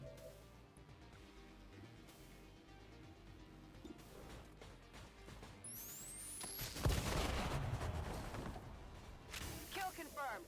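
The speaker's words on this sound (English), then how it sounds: "the loud bang of an explosion calls in the Lost" In XCOM 2 Long War of the Chosen, a loud explosion bursts out midway through game audio, a heavy crash followed by rumbling debris, with faint in-game sounds around it.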